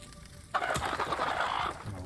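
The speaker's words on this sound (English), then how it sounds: "Oh, my chicken." A chicken clucks in the video game Fable, a short burst of close, fairly loud squawking clucks lasting over a second, with background game ambience and no speech.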